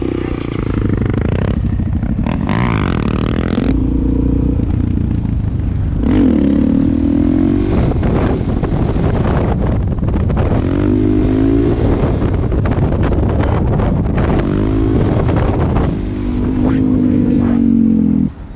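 Motorcycle engine in a parking lot during a beginner's first day of practice, loud and close, revving and easing off again and again in uneven surges with rattling clatter and no talking.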